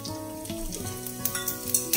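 Bay leaf, dried red chillies and whole cumin sizzle in hot oil for a tempering, giving a steady close crackle with small pops while spices are stirred in the pan.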